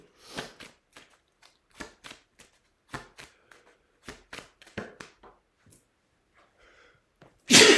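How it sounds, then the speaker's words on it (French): A single sharp sneeze bursts out loudly at the very end, after a stretch of quiet, soft clicks and rustles. "je me mets à éternuer"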